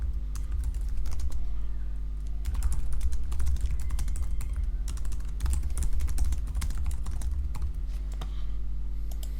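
Typing a pull request title on a computer keyboard: a steady, close clatter of keystrokes in quick runs with brief pauses, over a constant low electrical hum.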